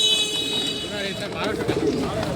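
Pigeons coo softly amid the bustle of the Tongi pigeon market, a few low calls under a steady crowd murmur.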